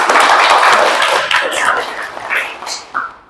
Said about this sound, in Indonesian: Tepuk tangan dulu dong teman-teman.